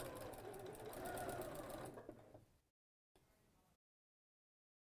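A sewing machine stitches the lining of a tote bag, running as a steady, loud, close whir for over two seconds before winding down and stopping, followed by a short second burst of stitching and then silence.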